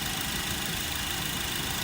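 A car engine idles steadily at low volume while warming up during a diagnostic check, a continuous even rumble with a faint knocking vibration throughout, no voices.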